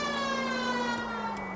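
Police siren in a video game played on PS4, a steady loud electronic wail holding a sustained tone with strong harmonics, pitch sliding slightly downward near the end, continuous throughout with no voices.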